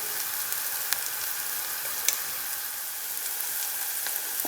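Onion, tomato and turmeric sizzle steadily in a hot pan for a bottle gourd curry, a dense even frying hiss with a few faint ticks and pops from stirring, close and uninterrupted.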